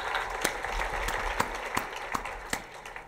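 Audience clapping for a group of quilters at a quilting event, a steady crowd applause with several distinct sharp claps standing out near the listener.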